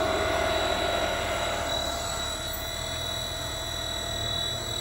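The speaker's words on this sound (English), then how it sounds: "Here's your motor, which is 40 horsepower motor" A 40 horsepower 230/460 volt electric motor, driven by an Allen Bradley drive, runs a never-used ribbon blender with a steady, loud, close mechanical hum and whine, holding constant throughout.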